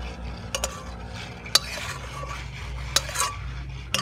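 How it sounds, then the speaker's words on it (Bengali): Paneer curry being stirred and poured into a bowl in a home kitchen, with soft scraping and occasional sharp clinks of utensil against pot or bowl over a low steady background hum. "একটা পাত্রের মধ্যে ঢেলে নেব।"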